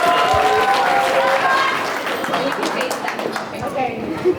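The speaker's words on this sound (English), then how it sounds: "So give a round of applause" Applause from wedding guests rises and then thins out, a dense, steady patter mixed with voices and faint tones, close and fairly loud.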